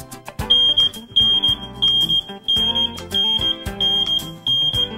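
Full alarm from a carbon monoxide detector: loud, rapid bursts of shrill electronic beeps repeating in close groups, a penetrating tone sounding alone with no talk.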